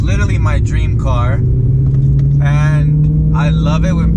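A loud BMW M3 engine rumbles steadily from inside the car, a deep constant drone with a slowly rising tone, while someone talks over it in bursts.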